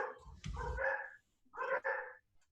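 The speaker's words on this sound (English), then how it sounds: "Those are some loud dogs, bro" Dogs in a home bark loudly in two close bursts, a sharp yappy volley and then a shorter pair of barks, with no talking over them.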